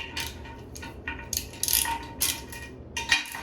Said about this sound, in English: To remove these, just use the same wrench.